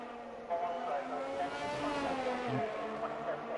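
A Ferrari race car engine drones in a racing video game, a sustained revving note with shifting pitch that swells and falls as it drives, loud and continuous under a commentator's voice.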